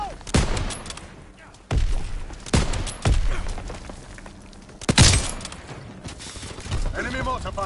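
Bursts of rifle and machine-gun fire crackle in a World War 2 video game battle, several loud volleys separated by short gaps, with game voices sounding over the shooting.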